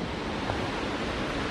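A waterfall in the Swiss Alps gives a steady, dense rush of falling water, a constant broadband roar that is fairly faint and unbroken throughout the short stretch, with no voices.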